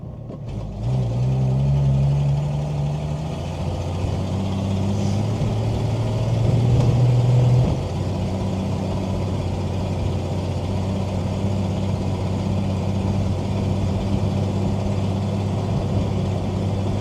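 A 1966 Ford Mustang coupe with manual steering and brakes rolls over a rough town road, its engine a steady low drone with road rumble and a brief swell of revving midway, no talking.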